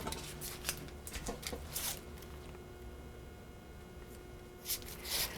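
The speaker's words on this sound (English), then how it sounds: "So I'm just going to cut down through, maybe do 5 different chops" A knife cuts down through half of a large sweet onion for oxtail stew, making soft, faint chopping taps and crisp clicks against a board, spaced irregularly with quiet gaps.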